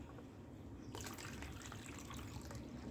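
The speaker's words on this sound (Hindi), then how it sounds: "और थोड़ा सा पानी भी डालेंगे ऊपर से।" Water pours over a freshly repotted lotus rhizome in a container, a steady splashing trickle that swells into a fuller gush about a second in and keeps running close by with no talk.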